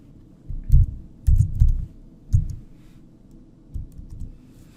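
Computer keyboard typing in short, soft clusters of muffled key presses with brief pauses between, close and alone.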